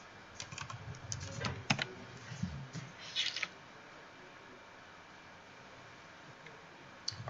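Commands are typed on a computer keyboard during Ubuntu Server setup, with bursts of quick close key clicks and then a quiet stretch before a few final taps.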